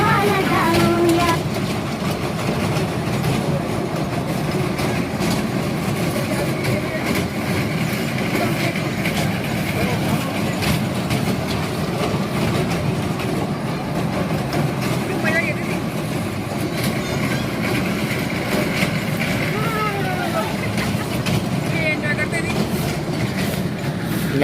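A passenger train runs with a steady, loud, continuous rumble from start to finish, and voices can be heard over it.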